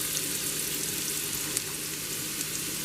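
Eggs fry in a pan on low heat with a steady, close sizzle and crackle that holds even throughout, with no talking.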